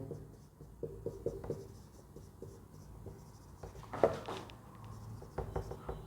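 Pen writing by hand on paper during a chemistry lesson on rate laws, with soft scratchy strokes in short bursts and pauses, quiet and close, and one sharper scrape near the end.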